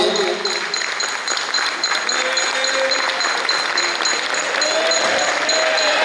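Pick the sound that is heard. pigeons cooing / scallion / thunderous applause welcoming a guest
thunderous applause welcoming a guest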